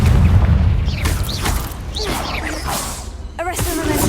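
Confringo explosive spell cast in Hogwarts Legacy, several whooshing magical bursts with thumps and booms in quick succession over a low rumbling background.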